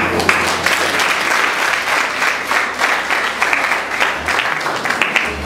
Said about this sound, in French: je vais demander à l'église là pour nous capables d'applaudir l'amour de ça